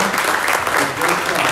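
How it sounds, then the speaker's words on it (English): A crowd at a small business pitch event claps loudly and steadily throughout, close and dense, with no pauses. "round of applause for Robert."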